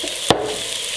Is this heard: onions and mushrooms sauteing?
yes